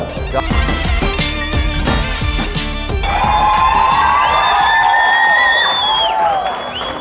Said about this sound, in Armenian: իսկ հիմա լսում ենք փեսայի կողմի հզոր ծափերը